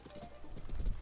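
Horse hooves clip-clop in a steady walking rhythm in The Legend of Zelda: Tears of the Kingdom, growing louder and closer toward the end, with faint game music and ambience beneath.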